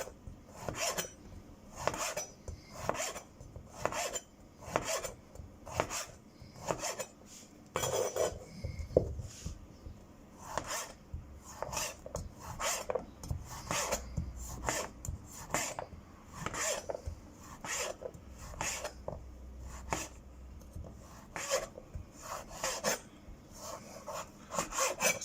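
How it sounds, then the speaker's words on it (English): Kitchen knife cutting through chorizo sausage on a board into half-centimetre slices, a steady run of short, close, crisp scraping strokes repeating evenly without talk. "Now let's slice the chorizo up in slices like that"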